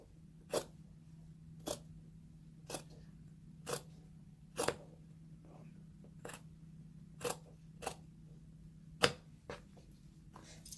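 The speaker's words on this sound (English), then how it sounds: "So we're gonna cut another piece too" Scissors snip through denim from old jeans in about ten separate sharp cuts spaced a second or so apart, close and crisp over a quiet background hum.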